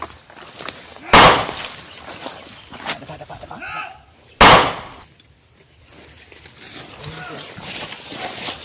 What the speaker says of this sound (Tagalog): May nagpaputok ka.